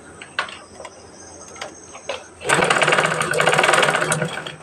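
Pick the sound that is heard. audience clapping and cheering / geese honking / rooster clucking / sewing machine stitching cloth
sewing machine stitching cloth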